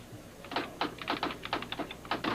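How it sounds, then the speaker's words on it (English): Keys on a typewriter strike in a quick, uneven run of about a dozen sharp clacks as a single word is typed, close and clear over a quiet background. "I'll type it on the typewriter."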